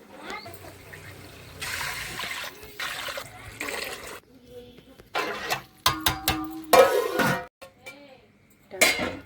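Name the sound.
water being poured into pan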